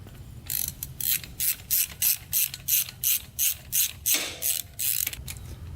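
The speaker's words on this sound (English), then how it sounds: "These need to be torqued to 32 foot-pounds." Torque wrench ratcheting on the crank bolts of a Honda 400ex engine: about a dozen regular, close clicking pulls in an even rhythm, each a short burst of ratchet clatter, with no speech.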